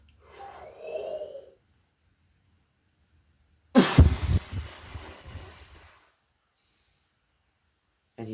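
A storyteller imitates a wolf blowing down a brick house with a single forceful, breathy blast that starts abruptly, rumbles and hisses for about two seconds and then fades into silence, after a softer breathy sound earlier.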